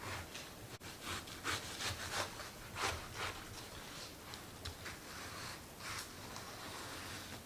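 A knife saws through a watermelon in quiet, rhythmic rasping strokes, close and fairly faint, with no talking.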